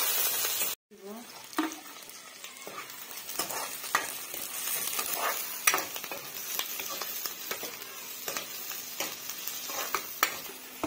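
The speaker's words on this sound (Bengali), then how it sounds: "পেঁয়াজটা লাল লাল করে ভেজে নিব" Onions fry in a pan until reddish, a steady hiss with frequent scraping stirs at a moderate, irregular pace, after a brief cut near the start.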